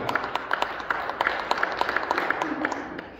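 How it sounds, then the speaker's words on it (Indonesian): Brief applause from a church congregation, a dense patter of many hands clapping at moderate distance, steady for about three seconds before easing off. "Tepuk tangan untuk hebat itu."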